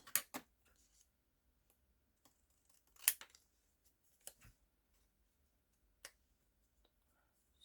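Scissors snip through card in a handful of sharp, isolated cuts spread across a quiet room, some clustered close together and others spaced seconds apart.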